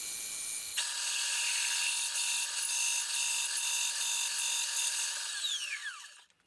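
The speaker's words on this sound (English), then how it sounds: "we'll center drill it first and then drill it with a 1/2 inch drill" A milling machine spins up and bores a center hole in metal, giving a steady, loud high-pitched whine with bright ringing tones that runs unbroken for several seconds, then winds down in a falling pitch sweep at the end.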